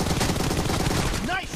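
Gunfire in a squad match of Battlegrounds India rattles in a dense, continuous burst, with a short voice-like tone rising near the end.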